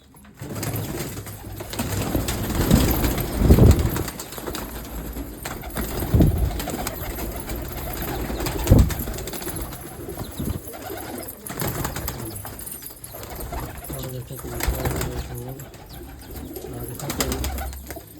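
A colony of red-eyed pigeons coos in repeated deep throaty rolls, fairly loud and near, with overlapping calls from several birds throughout and no talking.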